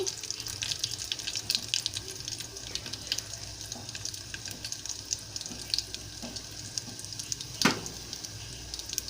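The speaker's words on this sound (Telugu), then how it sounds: "ఆవాలు చిటపటలు ఆడాలండి, తాలింపు వేగాలి కొంచెం." Mustard seeds spluttering in hot oil for a tempering, heard as dense steady crackle and sizzle with sharp pops scattered throughout, one louder burst near the end, close and alone without talk.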